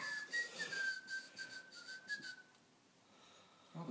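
Someone whistles a wavering, sliding tune for a couple of seconds, fairly quiet, then trails off into near silence.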